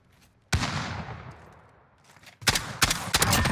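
Origin 12 shotgun slug rounds fired in Modern Warfare, a loud close blast that decays over two seconds, followed by a quick series of sharp shots near the end.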